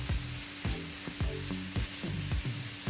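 Garlic, ginger and onion hit hot oil for fried rice, giving a steady close sizzle broken by regular scraping stirs of a spatula roughly every half second.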